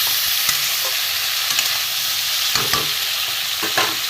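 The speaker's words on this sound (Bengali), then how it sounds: "এবার আমি এতে নুন দিয়ে দেবো, হলুদ গুঁড়ো দিয়ে দেবো, দিয়ে একটু ভালো করে নাড়াচাড়া করবো।" Vegetables frying in a pan with salt and turmeric, ridge gourd, drumstick and potato, stirred with a spatula: a steady close sizzle with several sharp scraping stirs at irregular intervals.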